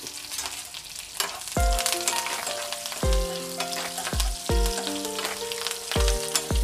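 Fenugreek powder, curry leaves and garlic slivers frying in hot oil as a tempering for Andhra-style ginger pickle, a loud, continuous crackling sizzle throughout with occasional stirring.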